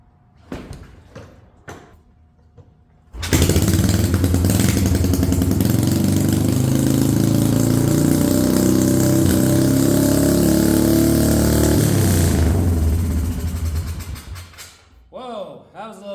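A Royal Enfield motorcycle with the choke on starts up after a couple of short bursts, then runs loud and close with a steady engine rumble and heavy throttle for about nine seconds before dying down, brief voices at the edges.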